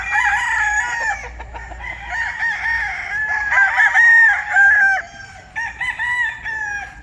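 Chickens cluck and a rooster crows repeatedly at close range, the birdsong filling the whole stretch with no talking.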